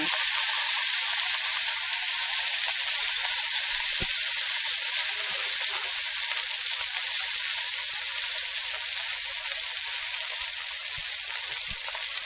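Lentil burgers frying in a pan, a loud, steady sizzle and crackle that runs throughout with scattered small pops.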